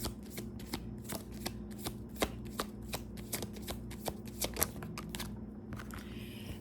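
A deck of tarot cards is riffled and shuffled by hand, a quick run of crisp flutters and snaps in uneven bursts, close and fairly quiet, ending with a softer rustle as the cards settle.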